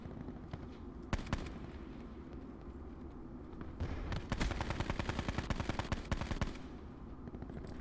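Rapid gunfire during a gunfight in Call of Duty Black Ops 4 Blackout, with single sharp shots early and then a dense stretch of fast automatic fire, set against steady in-game background noise.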